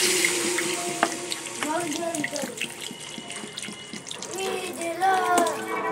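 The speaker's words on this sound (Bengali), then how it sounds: "এখন আমি জল দিয়ে দেবো এতে" Water poured in a small amount into a cooking pot, splashing and trickling continuously. Someone talks over parts of the pour.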